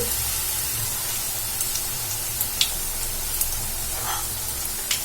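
Cauliflower pakoda frying in hot oil, a steady soft sizzling hiss throughout with a few faint crackles and pops, no voices.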